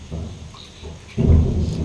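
Monsoon rain falls outdoors with a soft, steady patter, then a deeper rumbling surge swells near the end, loud and close, with no voices.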